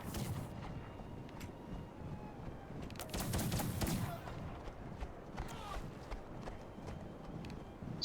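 Scattered musket volleys and gunshots in a Napoleonic war video game, a crackling cluster of shots building to a thicker burst in the middle, with faint talk underneath.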